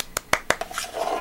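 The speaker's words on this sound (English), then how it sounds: "I get a little clap in there" Three sharp hand claps in quick succession, close and fairly quiet, followed by soft rustling in a kitchen while making a shea butter mix.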